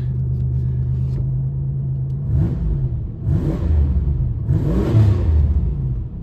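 A 1993 Oldsmobile Cutlass Cruiser woody station wagon engine running close by, a steady low idle hum followed by a few deep rumbling surges as it is revved, and the sound dips and swells.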